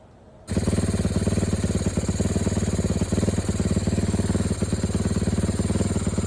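A Honda CRF450R dirt bike engine set up as a street-legal supermoto fires up and idles steadily, a loud close rapid thumping single-cylinder chug with no talk.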